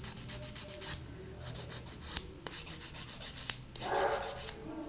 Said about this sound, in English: we're going to use gravity and rub along the file